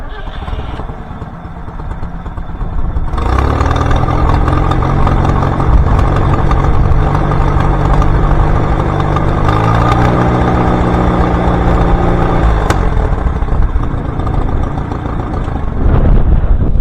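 A farm tractor engine, back in working order after a long breakdown, starts up and settles into a loud, steady idle that drones on close by for the rest of the stretch.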